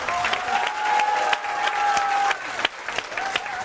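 Friends at the Corriere della Sera offices applaud warmly in a room, a steady patter of clapping from a small group with a few faint voices beneath it.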